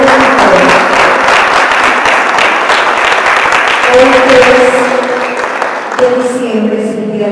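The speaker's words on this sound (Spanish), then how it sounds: "Vamos a darle un aplauso a los médicos." A congregation applauds doctors honored at a church service, a loud dense burst of clapping that gradually thins, with a speaking voice heard over it.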